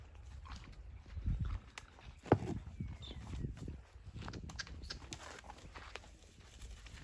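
A powerful chestnut mare's hooves clip-clop quietly in a loose, uneven rhythm at some distance, with faint background noise throughout.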